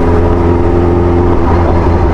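A Kawasaki H2 Carbon supercharged sport motorcycle idles loud and close, its engine holding a steady deep throbbing hum with a faint whine throughout.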